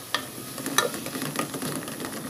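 Garlic sautéing in a pan gives a soft, close sizzle, broken by a few sharp scrapes and clicks from stirring.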